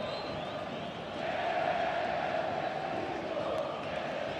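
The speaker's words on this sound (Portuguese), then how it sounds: "Aumenta o volume da torcida gremista no Olímpico." Grêmio supporters cheering and chanting at the Olímpico stadium during a 2011 match against Flamengo. The crowd roars as one distant, sustained mass that swells noticeably about a second in and then stays loud throughout.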